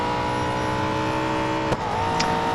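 Holden Commodore ZB supercar in Real Racing 3 at Mount Panorama, Bathurst, in a four-lap cup race: a steady, loud engine drone holding a constant pitch, with a brief sharp transient partway through and no talk.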